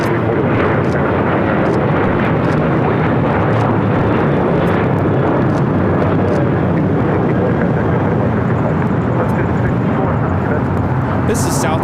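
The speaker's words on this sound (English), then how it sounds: "This is Southwest Airlines 264 taking off to Phoenix on a 737-800 in the Freedom 1 livery" A Southwest Airlines Boeing 737-800 in Freedom One livery takes off at LAX, its jet engines making a loud, sustained broadband roar that holds throughout, with faint tower radio chatter and voices underneath.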